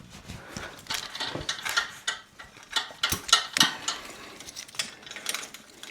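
A bicycle rear derailleur on a vintage Trek 950 is flexed by hand, giving irregular close clicks, ticks and metallic rattles in short bursts.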